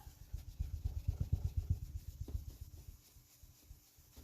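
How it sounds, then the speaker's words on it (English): A clean brush rubs and burnishes across a handmade anniversary card in quick back-and-forth scrubbing strokes, close and soft, fading into quieter strokes near the end. "So I'm going to burnish it, or rub it off now."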